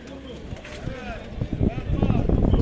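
Birds chirp and coo amid the Edirnekapı bird market on a cold day, with people talking nearby and general bustle growing louder toward the end.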